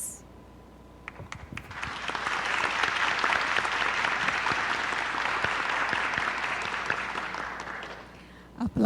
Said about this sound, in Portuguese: Aplausos para a Tânia